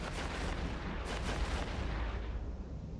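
Heavy turret weapons firing in the space game EVE Online, a dense, continuous rumbling barrage of booming blasts that rolls on loudly and steadily without pause.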